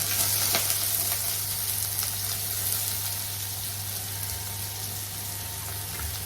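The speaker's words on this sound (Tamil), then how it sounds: "கருவேப்பிலை வெங்காயம் வதங்கட்டும்" Onions and curry leaves sautéing in a pan for South Indian vadacurry, a steady broadband sizzle with faint stirring scrapes, close and continuous, no talking.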